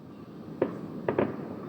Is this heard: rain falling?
no